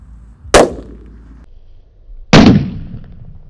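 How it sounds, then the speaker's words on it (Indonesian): Two purple happy flower firecrackers buried in the ground, each going off with a sharp loud bang and a brief decaying rumble, spaced about two seconds apart outdoors. "ini ada mercon happy flower yang warna ungu ya. Kita lihat ini langsung meledos guys"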